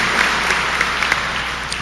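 A graduation audience at Greensboro College Middle College in 2021 claps, a loud, dense and steady wash of applause from many hands that runs the whole time.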